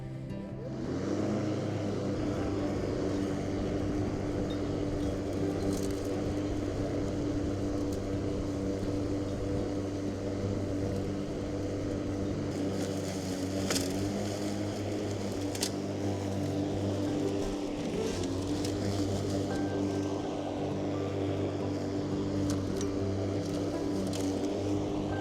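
A new Mountfield battery-powered lawn mower runs steadily for the whole stretch, its continuous motor hum and blade whir holding a constant, fairly close level with no talking.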